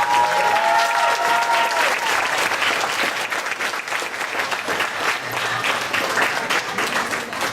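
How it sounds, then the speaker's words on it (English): Sustained audience applause fills a room at the close of a poetry night, dense clapping holding steady and loud throughout with a faint murmur of crowd noise beneath. "Could we have a warm round of applause for all of the folks?"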